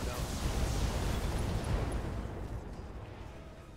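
Mech weapons fire at a Panther in Battletech, a loud rumbling barrage of blasts and bursts that swells then slowly fades.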